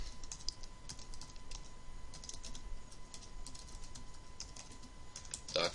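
Soft, quick keystrokes tapping out a domain name on a computer keyboard, faint beneath steady background hiss and a thin electronic whine.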